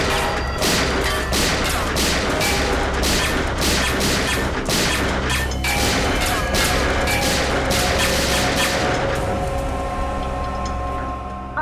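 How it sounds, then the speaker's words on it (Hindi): Rapid bursts of gunfire in a Hindi TV crime drama shootout, dense repeated sharp shots and crashes over a dramatic music bed, loud and close for most of the scene before easing off. "क्यों फिजूल में कानून की गोलियां बर्बाद कर रहे हो दया?"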